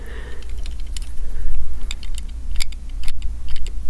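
Irregular light mechanical clicks and ticks from a compass needle, close by, over a steady low hum, with faint rustling handling noise between them.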